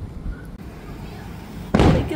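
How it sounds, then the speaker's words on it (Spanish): Fireworks rockets bursting at a night celebration near a water park, a loud broadband blast arriving late after a stretch of quieter background rumble and distant pops, with people talking nearby. "Ay, qué bonitos los cohetes."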